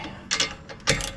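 A socket ratchet wrench tightening a bolt on an AEV steering damper gives two short, close bursts of ratcheting clicks, separated by a brief quieter gap.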